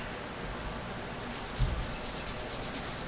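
A nail file rasps back and forth over acrylic nails in quick, even strokes, close and fairly quiet, with no one talking.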